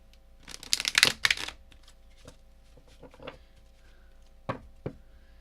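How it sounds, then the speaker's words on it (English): Large tarot cards being shuffled in a few quick riffling bursts, then softer taps and handling, close up with no talking. "these cards are huge to shuffle, so it's going to take me a minute"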